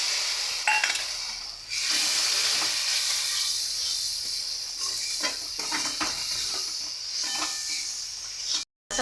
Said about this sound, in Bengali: মশলা থেকে তেল ছেড়ে গেছে, এবার আমি একটু সামান্য জল দিয়ে দেবো